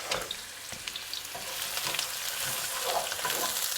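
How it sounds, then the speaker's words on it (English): Chopped onions and the white part of spring onion frying in sunflower oil over high heat, a dense close sizzle with scattered crackles and occasional stirring scrapes, steady throughout and free of speech. "Now I'm going to add the onions and spring onion, just the white part. And continue to cook this on high heat."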